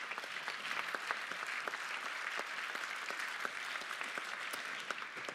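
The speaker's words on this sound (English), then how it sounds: "please give big applause for those" At a Best Sommelier of Europe, Africa and Middle East contest final, the audience gives sustained applause, a dense, even field of many hands clapping, heard at a moderate distance.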